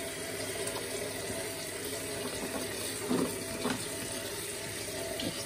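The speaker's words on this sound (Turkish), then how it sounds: "bu burada haşlanırken ben diğer bamyamı bir soğuk sudan geçiriyorum. Şöyle üzerinden bir soğuk sudan geçiriyorum." Okra rinsed under cold running tap water in a kitchen, a steady close rush of flowing water with a few brief splashes and spatters as the pods are moved under the stream.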